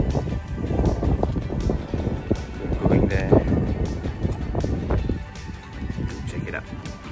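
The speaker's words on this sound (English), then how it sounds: "So we made it. Super windy." Rushing, gusty wind in Barcelona buffets the microphone in a steady roar, with people talking underneath.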